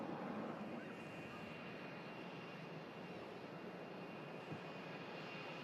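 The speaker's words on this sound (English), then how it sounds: "Pegasus climbs above the Concorde hangar." Pegasus airliner climbing out after takeoff over an airport hangar, its jet engines giving a faint, steady distant roar throughout.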